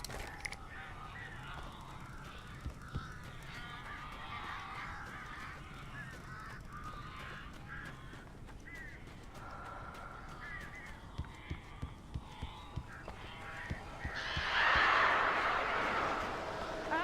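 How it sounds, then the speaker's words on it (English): Birds attack in the Alan Wake game: harsh cawing and honking calls come in bursts over a low ambient rumble, with scattered wing-flap thuds and a louder squawking flurry near the end. "These birds are weird."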